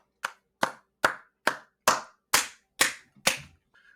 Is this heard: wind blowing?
no